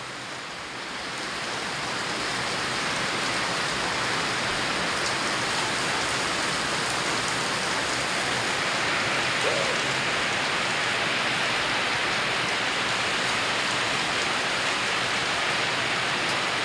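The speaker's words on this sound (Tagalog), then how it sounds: "Grabing lakas ng ulan na." Heavy rain pours down in a dense, unbroken hiss, building in the first seconds and then holding steady and loud.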